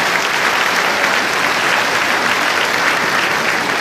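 Dense, sustained applause from an audience at a New Year's wishes ceremony fills the space evenly, many hands clapping at once with no break for the full few seconds.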